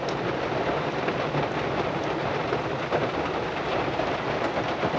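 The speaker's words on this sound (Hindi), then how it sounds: "बारिश रुकने का नाम नहीं ले रही, लेकिन क्या साउंड आ रहा है ऊपर से जो है" Heavy rain pounds steadily on a campsite in bad weather near Ottawa, a dense, loud, continuous wash of drumming drops from overhead with no pauses and no voices.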